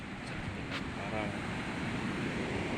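Sea waves washing at the seaside, a low continuous rushing surf with some wind on the microphone, fairly soft and steady without distinct breaks.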